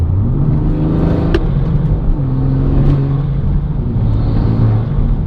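A BMW M140i engine revs continuously as heard from inside the cabin, loud and droning, pitch rising and settling, with a few sharp clicks over the hum.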